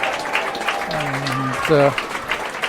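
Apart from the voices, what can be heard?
crowd cheering and applauding at a football match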